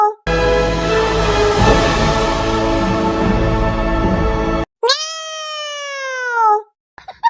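A child imitates a cat's meow, voicing a long drawn-out meow followed by a shorter rising one, loud and close, with a brief pause between the calls.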